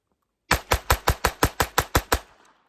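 A Ruger LCP II .22 LR pistol fires 40 grain solid rounds: ten sharp, close shots in a fast, even string, about five per second, ending in a short decaying echo.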